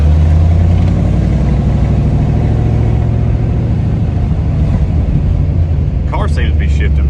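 Car engine rumbling steadily while driving, a low continuous drone with slight shifts in pitch as gears change, loud and close, with brief higher sounds near the end.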